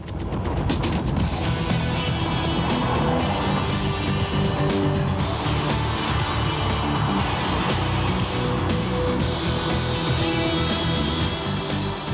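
Two 1990s executive saloons, a BMW 3 Series and a Mercedes C-Class, each with a 2.8-litre straight-six, drive past with a steady engine and road roar that holds loud and dense throughout.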